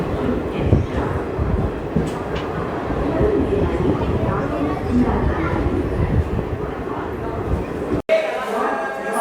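Kolhapur–Nagpur Express pulling into Badnera Junction, a steady close rumble of rolling wheels and carriage noise running without a break, with a brief dropout near the end.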